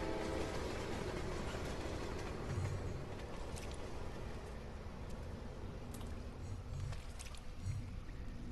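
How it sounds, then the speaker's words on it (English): In the PS4 game A Tale of Paper, a train runs along its tracks with a faint, steady mechanical rumble and occasional light clacks. "A train will be coming"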